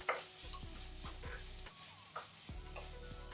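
Browned meat sizzles steadily in a pan as tomato paste is stirred in, a spatula scraping in repeated strokes over a constant close-up frying hiss, with no speech.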